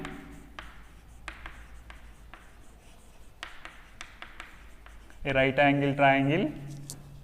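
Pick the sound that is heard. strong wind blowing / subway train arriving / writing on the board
writing on the board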